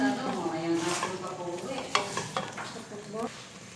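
Chicken liver and gizzard adobo is stirred in a pan, giving soft scraping and clinking strokes over a gentle sizzle, close and fairly quiet, with a couple of sharper utensil knocks.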